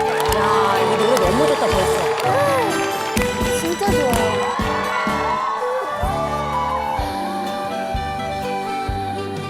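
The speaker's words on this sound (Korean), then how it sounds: "큰박수로 청해 듣겠습니다." An audience cheers, whoops and applauses over a steady musical beat at a trot-song performance, the crowd noise loud and continuous throughout.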